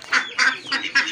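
Ducks quack four times in a loose rhythm, nasal honking calls heard close with no voices.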